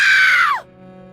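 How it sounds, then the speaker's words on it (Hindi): A woman screams in fear, a single loud, sustained high shriek that drops and cuts off abruptly within about half a second. "वह डर के मारे चीख पड़ी"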